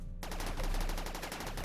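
Rapid bursts of automatic turret gunfire in the video game RimWorld, in a steady rhythm, loud and close, with an electronic game-like quality.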